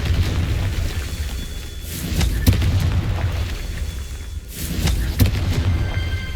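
A Confringo spell blasts in Hogwarts Legacy, a fiery magical explosion in a video game. Two loud booming bursts land a few seconds apart, each with a sharp crack and rumbling tail over steady low game ambience.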